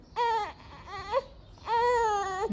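One of a pair of infant twins cries close up in two long wailing bursts separated by a short whimper and a pause, with quiet room noise in between.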